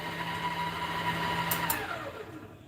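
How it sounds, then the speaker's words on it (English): An electric mixer whisks eggs for a vanilla cake, running as a steady, fairly loud mechanical whir with a constant hum throughout. There is no talking. "the eggs have finished whisking now"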